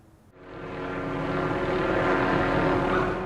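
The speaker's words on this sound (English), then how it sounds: "The sound of a sheriff's helicopter could be heard throughout the quiet neighborhood." A sheriff's helicopter engine drone rises quickly from quiet and holds loud and steady, passing close overhead a quiet neighborhood.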